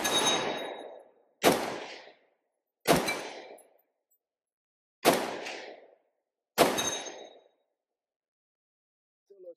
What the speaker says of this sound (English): we're going to take a few shots at a 50-yard steel target there